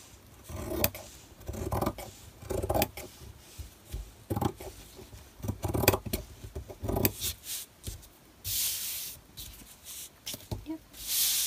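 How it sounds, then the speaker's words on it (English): Scissors snipping through fabric while trimming a journal dust jacket, a series of short scraping cuts at an irregular pace, close, with a few quiet handling rubs and a brief swish near the end. "now we can cut. Just cut"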